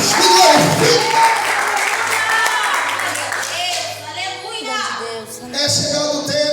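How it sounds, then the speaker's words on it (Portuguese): A church congregation claps and applauds loudly in a dense burst that fades slowly, with a preacher's voice speaking over it. "Aplaude o Senhor, igreja. Aplauda e glorifica."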